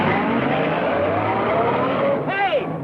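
An old car engine drives off in a 1940s Western, a loud steady engine drone close by that ends with a wavering squeal, while someone speaks over it.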